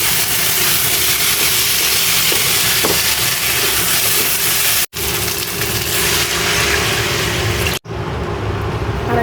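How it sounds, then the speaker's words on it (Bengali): Curry water is poured into a hot pan of fried potatoes and eggs cooked with spices, giving a loud, steady sizzling hiss that runs throughout, broken by two abrupt momentary cuts, with no talking. "একবারে ঝোলের পানি দিয়ে দেবো, যেহেতু আলু ভাজা আর কষাবো না"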